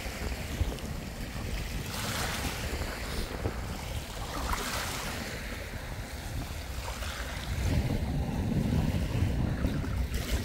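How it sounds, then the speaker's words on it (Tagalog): Strong ocean waves crash and surge in a continuous rough wash, with gusting wind buffeting the microphone and a heavier swell building toward the end. "Malakas ang alon."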